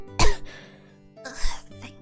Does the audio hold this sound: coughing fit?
yes